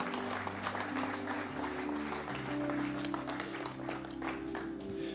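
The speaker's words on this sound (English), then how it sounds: "Let's give the Lord a clap offering" Church congregation applauding together as a clap offering for the Lord, a dense steady wash of claps with organ or keyboard chords sustained underneath throughout.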